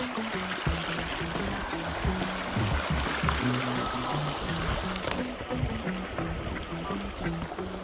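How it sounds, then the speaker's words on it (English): Pilchuck Creek in Washington state runs low over rocks, a steady rushing trickle heard close by with faint tonal background noise. "The creek is way lower than it was the last time I was here."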